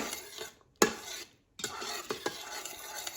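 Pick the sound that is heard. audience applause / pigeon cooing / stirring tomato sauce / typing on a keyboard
stirring tomato sauce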